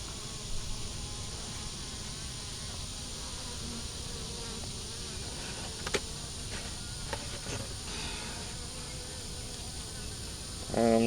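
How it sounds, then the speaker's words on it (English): Honey bees move about inside an open hive box, a steady close buzzing hum running throughout at an even level, rising briefly near the end. "We have bees walking around, but I don't see no queen."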